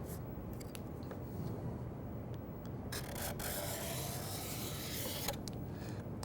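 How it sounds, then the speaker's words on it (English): A card scraper is drawn across a wood surface in a woodworking shop, giving soft, faint rasping strokes at a steady pace over quiet background noise. "when you're using a scraper is there's a lot of friction going on here"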